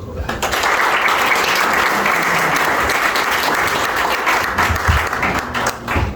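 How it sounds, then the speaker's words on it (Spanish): An audience at a book presentation bursts into sustained applause, a dense, close wash of clapping hands that holds steady for about six seconds with a few voices mixed in. "Para el cual pido un aplauso."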